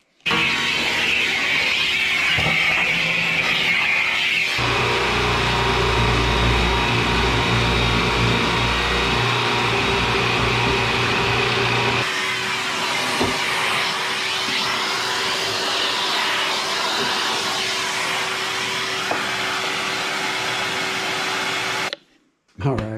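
A workshop dust collector sucks up sawdust left around a bandsaw. Its loud, steady roar runs almost nonstop, with the tone shifting as the hose meets debris, and it cuts out abruptly near the end.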